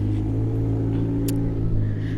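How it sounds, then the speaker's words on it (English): A car passing nearby with a steady, low engine rumble and road noise, loud and continuous throughout. "oh, that car is making noise."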